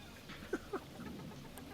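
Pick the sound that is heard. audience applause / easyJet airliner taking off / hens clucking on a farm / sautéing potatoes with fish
hens clucking on a farm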